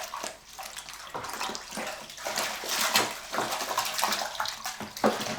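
Sugar and malt extract are stirred into homebrew stout wort, giving continuous sloshing, swishing liquid with rhythmic surges of the spoon moving through the pot, close and steady throughout.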